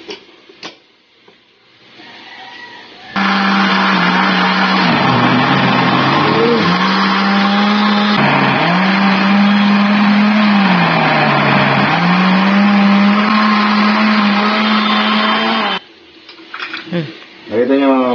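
A loud, steady blender whir grinding bitter melon (ampalaya) leaves runs for about twelve seconds, starting abruptly and dipping in pitch briefly as the load shifts, then cutting off.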